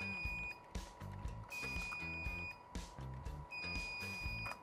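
Mikrobits ETNA v2 router's built-in beeper sounding during a reboot, giving a few faint, short, high electronic tones at spaced intervals over a quiet background.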